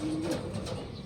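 Homing pigeons in a loft coo close by, a low rolling call that carries steadily through the second with no talk.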